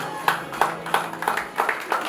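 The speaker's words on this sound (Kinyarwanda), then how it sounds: "Amashyi menshi cyane." A crowd claps in a steady rhythm, about six evenly spaced bursts of hand claps close by, with a faint murmur underneath.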